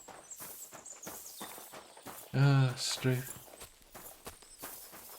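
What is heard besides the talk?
horse hooves in video game Kingdom Come Deliverance 2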